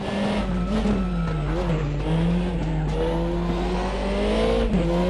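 Continuous whine of a race car engine in RaceRoom Racing Experience, played with a controller, holding a steady high pitch with slight rises and dips and faint tire noise, loud and close throughout.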